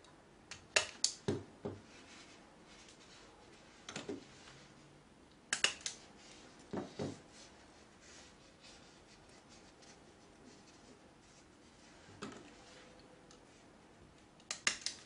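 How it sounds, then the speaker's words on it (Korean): A handheld stapler fastens a lace zipper to fabric in a quiet room, giving a few sharp, separate clicks spread out over the stretch with soft handling rustle between them. "자, 이렇게 스탬플러로 고정이 되었고요"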